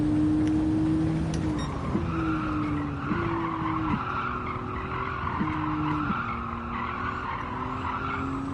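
A race car in Gran Turismo 7 brakes too late into a corner, and its tires squeal and skid in long, loud, continuous howls over the steady drone of the engine.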